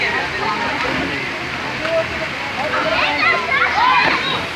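Water pours steadily into a public pool while people bathe, a constant rushing splash with occasional sloshing beneath nearby talking.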